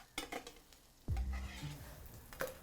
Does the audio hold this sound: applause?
no